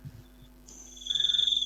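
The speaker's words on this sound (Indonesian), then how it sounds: "Tuh kan, suara jangkrik lagi kan" A cricket chirping sound effect plays during a heated online debate, a rapid pulsing chirp that rises briefly and fairly faintly over a quiet background hum.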